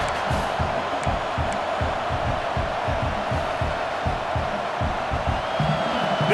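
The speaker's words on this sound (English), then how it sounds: "This crowd bringing the energy and noise early" Stadium crowd noise in EA Sports College Football 26, a steady roar of cheering fans with rhythmic low thumps and chanting pulses throughout.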